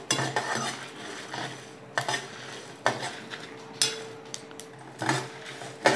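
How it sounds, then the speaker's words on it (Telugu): Coconut pieces and chicken curry masala frying in a pan, with repeated scraping and clanking of a spoon against the metal pan over a faint steady sizzle, close and moderately loud. "ఇవన్నీ చక్కగా వేయించుకోవాలి దారుణంగా వచ్చే వరకు."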